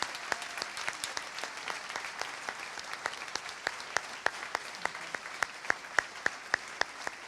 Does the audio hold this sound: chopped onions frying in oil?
no